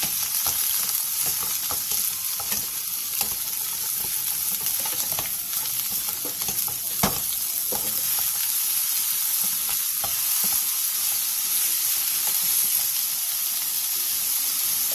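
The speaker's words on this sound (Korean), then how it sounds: "팬에 기름을 두른 뒤 고구마순과 다진 마늘 1스푼을 넣고 센 불에서 골고루 어우러지게 볶아주세요" Sweet potato stems and minced garlic stir-frying in oil in a pan over high heat, a loud, steady sizzle with occasional scraping stirs, close and continuous with no talk.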